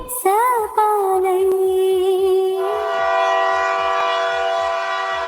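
A train horn blares over a passing train, followed by steady rhythmic clickety-clack of wheels on rail joints as the cars roll by, loud and close with no talking.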